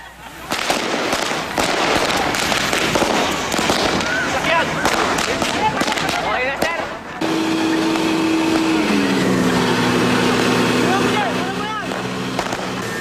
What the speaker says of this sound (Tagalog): bigla na lang sumabog ang mga paputok